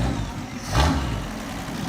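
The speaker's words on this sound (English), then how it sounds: "the sound of the straight sixes are unique. You just hear all the little valves going." A straight-six race car engine in a custom garage fires up and revs once in a short swelling burst, then settles into a rough, steady close-up idle.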